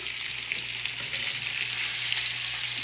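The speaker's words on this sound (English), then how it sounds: "I feel like our fish is cooking up nicely." Tilapia fillets frying in hot oil, a steady, close hiss and crackle of sizzling that holds evenly throughout with no voices.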